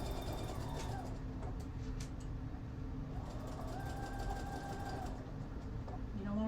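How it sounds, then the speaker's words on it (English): A sewing machine stitches jersey fabric from thrifted shirts in quick, close bursts of mechanical whirring that start and stop. "remember you're sewing on jersey"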